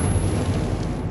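A grenade detonates in Metro 2033 with a heavy, close boom. Its low rumble rolls on steadily and loudly for about a second without any talk.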